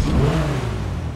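The custom Itali GTB sports car in GTA V fires up after a push-button start, a throaty engine note swelling into a rev and then settling into a rumbling idle, close and loud.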